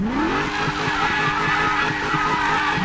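A new car in the Need for Speed video game revs with a rising engine pitch, then holds a steady, loud rumbling drone with rhythmic pulsing and hissing tyre noise throughout.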